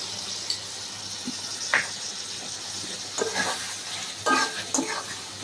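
Mixed vegetables with mustard paste being stirred in a pan, a low background sizzle broken by scraping spoon strokes and a few clinks against the pan, close and clear.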